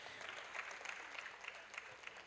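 Faint, distant clapping from a seminar audience at a 2024 university career event in Lagos, a soft, even patter with a few slightly louder claps rising from it, heard without any talk.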